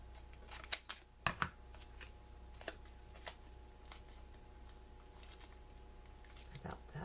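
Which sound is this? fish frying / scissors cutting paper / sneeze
scissors cutting paper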